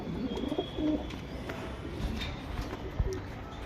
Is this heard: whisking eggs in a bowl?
no